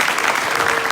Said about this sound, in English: So a big applause as well for coming, and thank you very much.